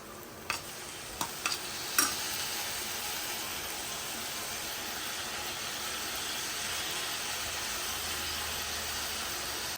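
Chopped onion and tomato fry in a pan with a steady, close sizzle and hiss throughout, broken by a few sharp clacks early on as ingredients are stirred in.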